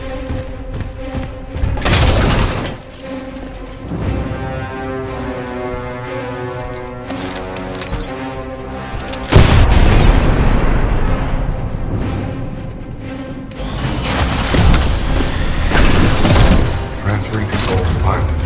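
Heavy booms and rumbling blasts in Titanfall 2 as a weapon test van explodes, with loud thuds at the start and a big crash midway, under game dialogue and busy combat noise.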